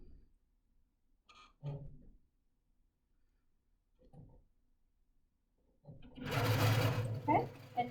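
A longarm quilting machine couching yarn onto Kaffe Fassett fabric starts up after a few soft clicks and handling sounds, then runs with a steady, slow mechanical stitching hum, close and clear.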